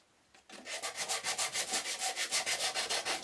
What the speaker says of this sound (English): give the whole box a nice finishing sanding